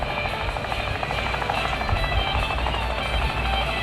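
A video game helicopter's steady, pulsing rotor thrum with a heavy engine rumble, continuous and loud throughout.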